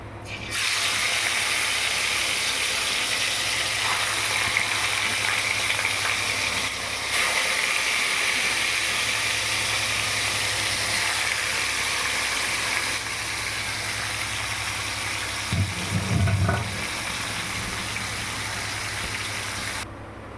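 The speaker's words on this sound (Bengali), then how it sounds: "তেলটা গরম হয়ে গেছে, এবার আমি মাছগুলো ভেজে নেব।" Pieces of rui fish frying in hot oil in a kadai, a steady hissing sizzle that continues evenly with a brief clatter near the end and no talk.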